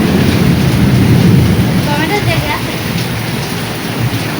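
Steady rain falls outdoors on a wet day near a roadside, a dense continuous hiss of drops on surfaces, loud and close, with faint distant rumbles and a brief voice in the background.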